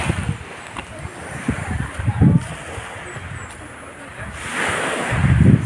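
Sea waves wash and surge near the shore under gusty wind buffeting the microphone, swelling louder toward the end, with a voice speaking at times.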